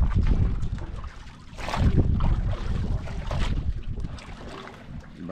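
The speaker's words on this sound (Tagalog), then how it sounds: "Ibang klase yung hangin ngayon ah" Strong wind at sea buffets the microphone in heavy, surging gusts, with roaring rises and falls and a rushing water-like hiss. No talk is heard.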